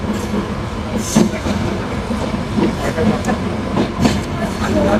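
The Sagardari Express rolls along the rails toward Khulna, a loud steady rumble with rhythmic clickety-clack wheel beats over rail joints, heard from on board with faint voices mixed in.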